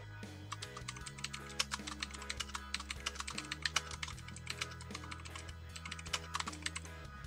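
Rapid clicking keystrokes on a computer keyboard as a title is typed into a WordPress code snippet field, steady close-up tapping with uneven rhythm and no talking.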